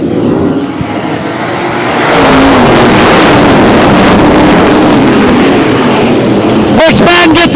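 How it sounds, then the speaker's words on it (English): Modified race cars roar at the green flag at a dirt speedway, engine noise swelling loud and continuous with wind buffeting, under an announcer's talk. "Green flags in the air. We're racing modifieds."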